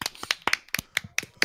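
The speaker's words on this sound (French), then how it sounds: "On est deux à avoir applaudi." Two people clapping, sparse uneven claps, about eight or nine sharp hits close by, thin and quiet with no other sound.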